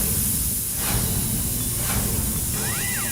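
Pressure cooker whistle releasing steam in a home kitchen, a loud continuous hiss that surges in waves and ends with a rising and falling whistle tone, close and with no talk.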